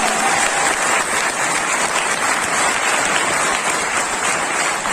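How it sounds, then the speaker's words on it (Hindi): Audience at a company training event bursts into loud, sustained applause, a thick, steady roar of many hands clapping together from start to finish with hardly any talking. "एक बार जोरदार ताली आपके लिए चाहूंगा"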